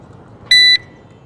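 A KAI TWO PRO drone gives one short, clear, high-pitched electronic beep during compass calibration, sounding alone against faint background hiss.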